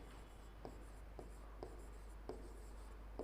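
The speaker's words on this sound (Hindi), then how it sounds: "पहले लिखेंगे" Pen or chalk taps and strokes come at a steady pace while numbers are written out during a maths lesson on arithmetic progression, faint over a constant low hum.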